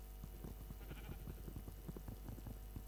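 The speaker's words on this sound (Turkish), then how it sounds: "Lan koyunmuş." A sheep in a video game bleats faintly in a few short, wavering calls over a constant noisy background hum.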